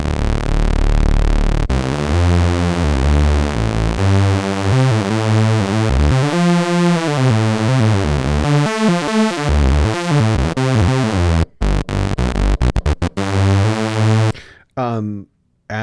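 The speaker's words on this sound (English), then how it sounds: "what you did hear was a really, really cool sound made only with oscillators, no filters" Yamaha CS-15 analog synthesizer voiced with its two oscillators only and no filters, playing a buzzy, harmonically rich sequence of stepped notes without glide, loud and up close, before a voice starts speaking near the end.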